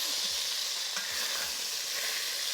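Braised short ribs in a Dutch oven give off a steady loud hiss of sizzling fat, with a few faint low knocks as the meat is lifted out.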